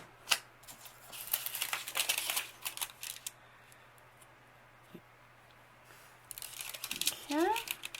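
Scissors snip down a piece of tag material, sharp papery cuts coming in two bursts with a quieter stretch between them, close by, while a person speaks.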